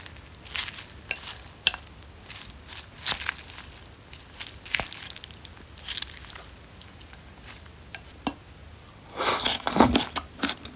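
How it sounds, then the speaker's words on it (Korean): Someone eats LA galbi short ribs torn apart by hand, with scattered close, soft bites, smacks and chewing clicks, then a denser, louder burst of chewing near the end. "LA갈비 이렇게 손으로 뜯어서 먹어볼게요"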